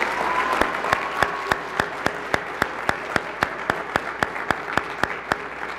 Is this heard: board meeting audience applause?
yes